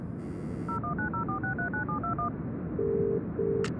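A run of rapid telephone keypad tones in the video game Broken Sword 3: The Sleeping Dragon, about a dozen quick beeps, followed by two longer ringback tones on a quiet line.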